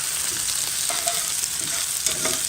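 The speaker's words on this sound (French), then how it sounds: "Caramélise un peu les oignons." Onions caramelising in a pot with tinned corned beef nearby, a continuous close sizzle and crackle with faint stirring, no voices.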